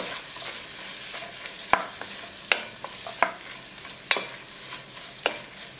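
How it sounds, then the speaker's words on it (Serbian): Leek, onion and four garlic cloves fry in fat in a pan with a soft sizzle, while a spoon stirs them with about five sharp scraping clicks spaced roughly a second apart. "I sve ćemo to promešati i propržiti dok ne omekša."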